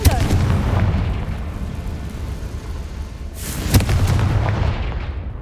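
A Confringo fire spell blasting in the Hogwarts Legacy video game, a loud, booming roar that rumbles throughout, with a sharper blast near the end.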